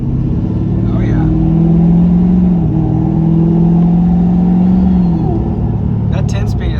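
A truck engine with a 10-speed transmission and delete accelerates from inside the cab, its steady drone dipping twice as it shifts gears, with talking over the engine.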